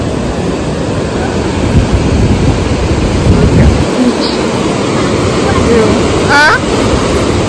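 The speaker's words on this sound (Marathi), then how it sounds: "कसला समुद्र आहे यार खतरनाक" Rough sea surf rushing onto a beach at high water, a steady loud roar of waves with heavy wind buffeting throughout, and a brief faint high call near the end.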